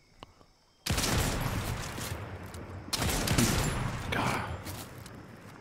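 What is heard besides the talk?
gunfire in the video game Fortnite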